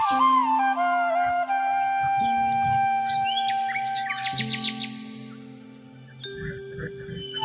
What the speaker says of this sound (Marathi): बघू शकताय छान असं त्या चिमण्या